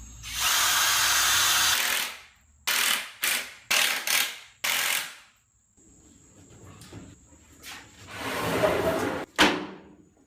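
A power drill drives screws to fasten panels onto 2x4 framing in a garage haunt build, several loud whirring bursts of varying length separated by pauses, with clicks and faint handling sounds between.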